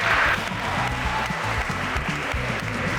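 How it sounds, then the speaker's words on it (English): A speed-dating event audience applauds in a steady patter of clapping, while voices talk and music plays underneath throughout. "Round of applause to everybody."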